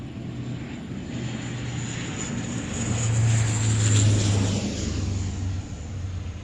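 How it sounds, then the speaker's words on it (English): F-16 fighter jets flying at the Royal International Air Tattoo air show, a steady roaring jet engine rumble that swells louder midway and then eases off, heard at a distance with no talking. "we got a chance to see both of those F-16s actually fly"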